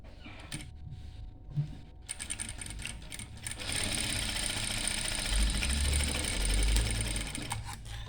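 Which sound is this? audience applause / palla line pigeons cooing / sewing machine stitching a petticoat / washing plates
sewing machine stitching a petticoat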